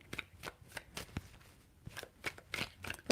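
Tarot cards being shuffled by hand, a series of quick crisp riffling bursts in uneven rhythm, close and fairly quiet with no talk.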